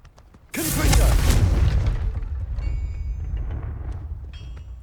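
A Confringo spell goes off in a video game, a sudden loud booming explosion that erupts after a brief quiet moment, then rumbles and slowly decays over several seconds, with faint sparkly tones in the tail.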